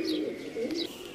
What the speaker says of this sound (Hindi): ए फिरोजपुरी कबूतर है जी प्योर